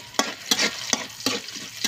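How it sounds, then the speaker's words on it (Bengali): Cinnamon and cardamom, together with raw onion, bay leaf and cumin, fry lightly in leftover oil, giving a steady close sizzle broken by several sharp scraping stirs of a spoon against the pan. "দিয়ে হালকা করে ভেজে নেব।"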